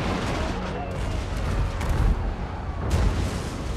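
Cannon fire in the fantasy strategy game Total War: Warhammer 2, a continuous rumble of distant booms with a few stronger blasts, loud and dense throughout the clip, with no talking over it.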